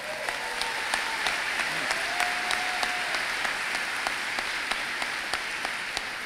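A graduation crowd gives a new head of school a steady round of applause, thick and sustained, with a few sharper individual claps cutting through at regular intervals and a faint tonal squeal partway in.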